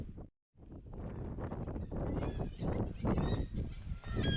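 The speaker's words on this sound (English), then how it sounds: "there's loads of little seagulls and stuff nesting here" Seagulls call at a coastal nesting site by a Scottish lighthouse, a dense, continuous chorus of overlapping honking cries. Wind buffets the microphone, and the calls are loud and close.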